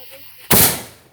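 A single firework goes off as one sudden loud bang that decays quickly, heard outdoors at a home display with a faint background before the blast.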